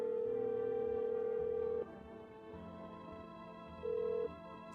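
Phone call tones in the video game No, I'm Not a Human: a sustained electronic beep, a pause, then a second shorter beep over a quiet musical hum, with no voices.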